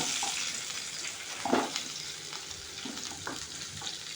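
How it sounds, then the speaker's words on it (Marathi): Drumstick pods stir-frying in oil with a pinch of turmeric for a village-style vegetable dish, giving a faint, steady sizzle with a few soft stirring scrapes. "हळद ॲड केल्यानंतर आता आपण याच्यामध्ये या शेवग्याच्या शेंगा ॲड करणार आहे"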